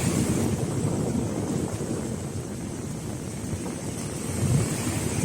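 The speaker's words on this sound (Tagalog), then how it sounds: "yung hampas ng alon at yung lakas ng hangin" Strong wind buffets the microphone while waves crash steadily along Manila Bay, forming a loud, continuous roar with no voices.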